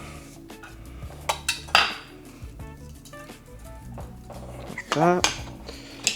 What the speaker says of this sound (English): Whisk it up. And that is my hollandaise sauce.